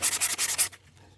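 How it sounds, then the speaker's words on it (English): Rapid scratchy sanding strokes on a wooden crankbait fishing lure, about six rhythmic rubs close to the microphone, then stopping into near silence. "it's a lot of work, a lot of sanding"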